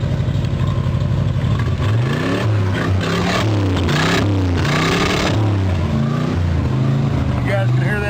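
A warmed-up 1978 Jeep CJ7 with a stock-sounding engine is given gas, its idle swelling into several rising and falling revs close by and loud.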